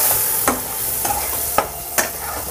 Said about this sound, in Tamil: ஸோ இதை லைட்டாக வறுத்துக்கலாம், ஜஸ்ட் ஒரு ஃபியூ செகண்ட்ஸ் வறுத்துக்கலாம்.